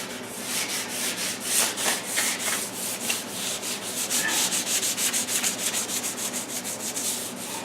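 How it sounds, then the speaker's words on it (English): A scraper rasps repeatedly along wooden door trim, stripping built-up paint from the edge in a steady run of close, gritty strokes with no talking. "I gotta scrape the back of this down a little bit to get that excess paint on the edge"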